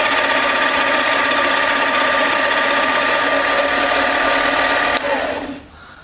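A cheap 7x14 mini-lathe turning aluminum gives a steady, loud mechanical whine with a high cutting tone, continuous for several seconds before the motor abruptly drops away near the end.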